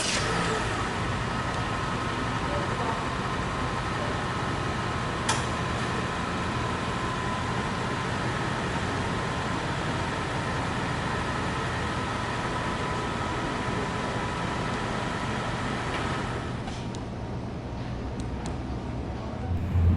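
A 2023 Honda City Hatchback 1.5 RS CVT idles after a remote start, giving a faint, steady engine hum with a soft broadband hiss that thins out near the end. No one speaks.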